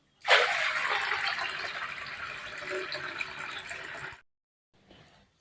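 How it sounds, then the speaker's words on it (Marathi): Water splashes and swishes steadily as dal lentils are washed, a dense continuous wash lasting about four seconds before stopping abruptly, followed by a brief faint rustle. "आता परत ही डाळ धुवून घेते तशाच पद्धतीने"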